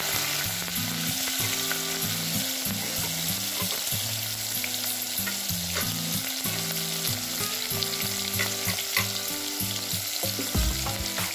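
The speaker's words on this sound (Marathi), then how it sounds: "आता इथे आपण जिरे टाकत आहे, तमालपत्र टाकत आहे आणि कांदा पण टाकत आहे।" Cumin, bay leaf and onion fry in hot oil for pulao rice, giving a steady loud sizzle with occasional stirring scrapes and a low hum underneath, with no voices.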